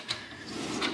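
A drawer on a US General Master Tech tool cart sliding open or shut, a short metallic rolling rumble lasting about a second, close by with no talk.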